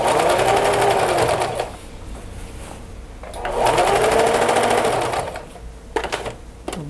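Sewing machine stitching fabric, loud and close, with two long steady runs of rapid mechanical whirring separated by quieter pauses and a few small clicks near the end.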